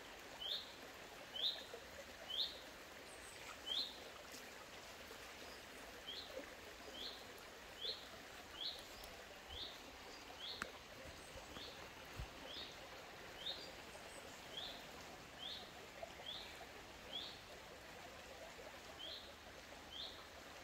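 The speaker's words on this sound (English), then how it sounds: "Stay quiet so you can hear the birds." Faint birdsong repeats at regular intervals, a short high chirping phrase over a soft background of trickling water or wind.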